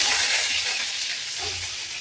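Ginger garlic paste sizzles in a hot pan with whole spices and curry leaves for an egg curry, a continuous close frying hiss with light stirring and no one talking.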